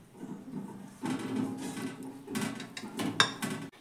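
A cooked pitha mixture is turned out of a pot onto a plate with soft scraping, dull thuds and a bright clink of cookware, quiet and close with no talk.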